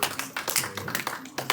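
Children at a Sunday school class clap briefly after a quiz, an uneven patter of small hands with some voices mixed in, close and moderately loud.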